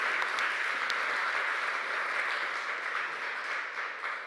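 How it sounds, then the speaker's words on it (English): Audience applauding at a European prize forum, a steady dense wash of many hands clapping throughout, fairly loud and unbroken, with no speech over it. "after the applause"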